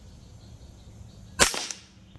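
A single sharp crack from a semi-automatic Hatsan Invader .25 caliber air rifle rated around 40 foot-pounds, close and loud against a quiet background, with a short tail after the shot.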